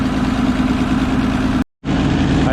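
An International Harvester IH 1026 tractor engine idles with a steady, loud, low diesel thrum up close, cutting out abruptly for a split second before the same running sound resumes.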